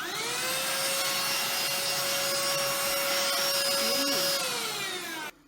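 A HOMEKANE cordless handheld vacuum cleaner runs with a steady high-pitched whine that rises at switch-on, holds for about five seconds, dips briefly, then cuts off abruptly.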